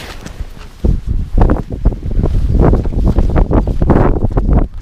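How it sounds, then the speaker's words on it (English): Cold wind gusting by a lake at a campsite, buffeting the microphone with loud, rumbling low-frequency bursts that rise and fall continuously, close and harsh, with no voices. "That wind is cold though. That wind is bad"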